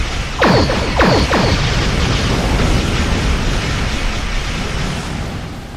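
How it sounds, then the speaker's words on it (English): A torpedo spread goes off as loud, booming explosions in the Star Trek Online space combat game. Two or three quick blasts come close together, then a long roaring rumble trails away. "Gotta love that torpedo spread 3."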